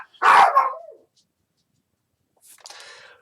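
A dog barks once loudly at close range, then a fainter bark or yip follows after a pause of silence.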